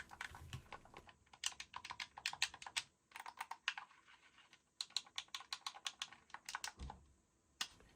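Buttons on a Sky Cipher Xbox Series X|S controller are pressed in quick, quiet bursts of crisp plastic clicks, close up, with short pauses between runs and no talking.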